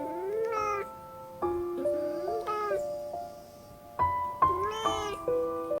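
A cat meows repeatedly in long, drawn-out, wavering cries, several in a row with short gaps, close and clear with no talking.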